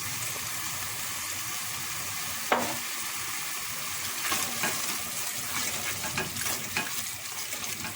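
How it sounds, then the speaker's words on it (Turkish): A spiced bulgur mixture sizzles and crackles in a frying pan while being stirred, with scraping spoon strokes over a constant close frying hiss. "Şöyle bir karıştıralım."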